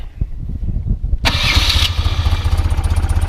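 A 1993 BMW R100GS Paris Dakar motorcycle's boxer engine cranks briefly, catches with a sharp burst, and settles into a steady, loud, close rumbling idle.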